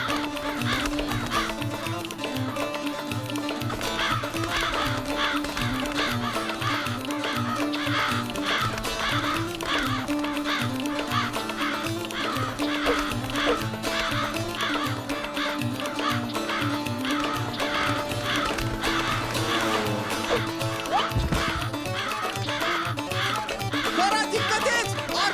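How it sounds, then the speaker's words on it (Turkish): Crows cawing repeatedly among a noisy flock, harsh calls layered over continuous music with dense, busy sound throughout. "Bu kadar çok kargayı kovalamak çok zor iş."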